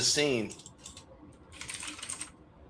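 Rapid typing on a computer keyboard, a quick patter of light clicks at close range, following a brief voice at the very start.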